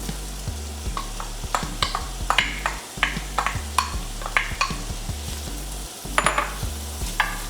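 Onions sauté in butter melted over medium heat in a soup pot, crackling and sizzling steadily while a utensil scrapes and clatters against the pan in frequent, uneven strokes.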